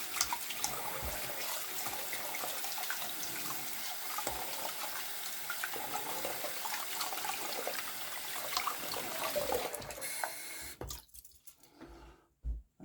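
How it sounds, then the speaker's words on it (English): Tap water runs steadily over hands at a bathroom sink after polishing a vintage Gillette safety razor with toothpaste, a continuous close splashing rush that cuts off near the end, leaving brief quiet. "Rinse my hands."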